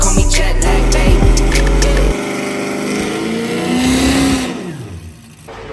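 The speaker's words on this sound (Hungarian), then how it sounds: "Megtörtént az autó első indítása." The F22 fitted with an LSR compressor fires up for its first start, then the engine revs loudly and close by in rising and falling sweeps before settling down.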